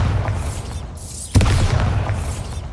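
The Bombarda blasting spell in Hogwarts Legacy bursts with one loud, close boom and crunching debris, rising sharply out of a humming magical ambience that carries on after the blast.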